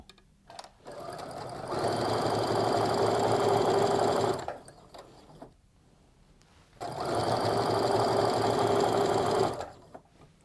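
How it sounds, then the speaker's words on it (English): A sewing machine chain pieces quilt fabric for a subway tile quilt, running in two steady whirring bursts of several seconds each with a quiet pause between them, close and clear. "So I'm going to stitch those 2, then repeat that process with the next 2 that I have."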